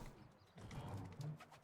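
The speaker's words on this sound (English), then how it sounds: "These pigeons." Pigeons in the video game Medieval Dynasty coo softly and low in a few short, close phrases over faint background ambience.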